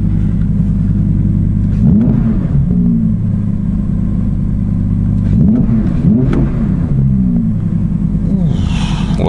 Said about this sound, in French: Mettre mode performance et tout de suite on entend que ça gronde davantage.